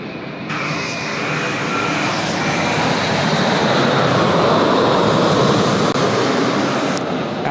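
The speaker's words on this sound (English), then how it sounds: "All Nippon about to fly overhead as well." An All Nippon airliner passes overhead at Sydney Airport with a loud, sustained jet roar that builds and holds through the whole span, close and dominant with no talk over it.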